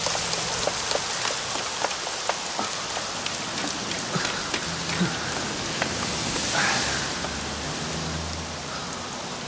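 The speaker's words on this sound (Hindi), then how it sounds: "अरे बारिश शुरू हो गई।" Rain falling on a surface, a dense steady patter of drops throughout, fairly loud and close with no voices over it.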